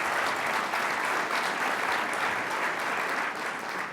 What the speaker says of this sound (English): give a big round of applause to Troy